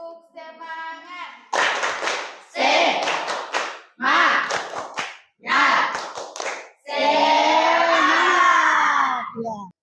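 A school class performs rhythmic 'tepuk semangat' clapping in an Islamic education lesson, with sharp clap bursts in clusters separated by short gaps, chanted voices over the claps, and a sustained group cheer at the end.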